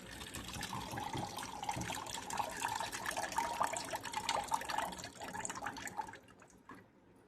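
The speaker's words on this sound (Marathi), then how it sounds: "आता यातलं पाणी आपण ह्याच्यात ओतून काढू." Soaking water poured off a bowl of flattened rice (poha) into another vessel, a soft continuous trickle and splash for about six seconds that stops abruptly, leaving near silence.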